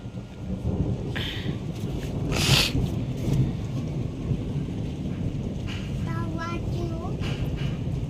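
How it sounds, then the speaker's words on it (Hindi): A heavy thunderstorm brings a sharp thunder crack early on over a constant hiss of falling rain, with people talking in the foreground. "बहुत ही भयानक वाला बिजली कड़क रहा है और साथ में बारिश हो रही है।"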